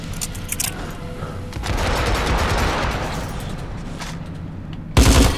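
Gunfire from guards in the stealth game Hitman Absolution: a sustained rattle of shots over a couple of seconds, followed by a sharp, loud burst near the end.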